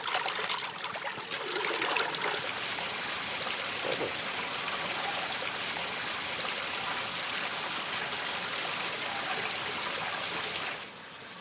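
Tomatoes washed under running water in a backyard, a steady close rush and trickle that carries on evenly before stopping abruptly.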